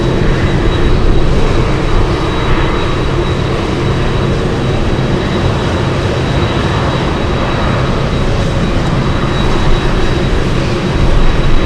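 An Atlas Air cargo jet passes at Anchorage airport, a loud, broad, steady engine roar filling the whole stretch with a faint high tone over it.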